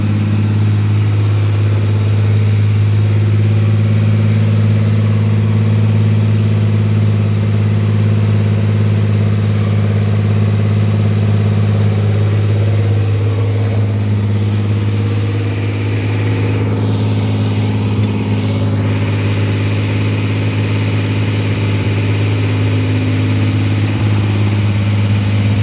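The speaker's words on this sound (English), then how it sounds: "Okay, high idle's normal." A car engine holds a steady high idle right after a stall and restart, a constant low hum filling the whole stretch with no talk over it.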